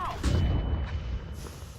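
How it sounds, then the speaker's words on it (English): A flashbang grenade goes off in a competitive tactical shooter match: a broad, heavy burst with a deep thumping rumble that hangs on and slowly fades over a couple of seconds. "Throwing flashbang."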